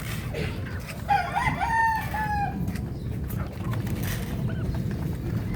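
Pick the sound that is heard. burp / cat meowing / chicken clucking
chicken clucking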